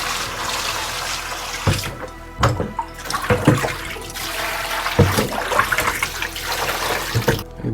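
Running water rinsing a part in a sink, a loud close gush that splashes and surges in uneven bursts with brief pauses, no voices over it.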